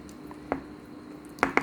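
Butter slime squelches as it is mixed by hand, giving three brief, soft, wet squishes, one early and two close together near the end, over a quiet room hum.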